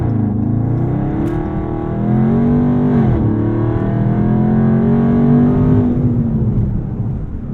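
A Dodge Charger Scat Pack Widebody's engine pulls hard under acceleration, a loud, deep, rising exhaust roar heard from inside the car, with a brief shift dip partway through before the drone climbs again.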